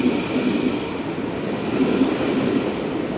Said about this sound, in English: This is the new trains that are introduced to the Long Island Railroad. And it's off now.